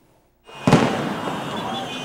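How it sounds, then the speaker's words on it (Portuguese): A sharp loud bang followed by a sustained crackling roar of bursts and pops from gunshots fired into the air mixed with fireworks during a street celebration in Libya, close by amid outdoor noise. "Tiros para o ar se misturavam com fogos de artifício."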